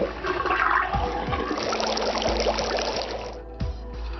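Water draining from a sink in the video game Zero Time Dilemma, a continuous gurgling, rushing flow like a plughole emptying, fairly loud and close, with no voices.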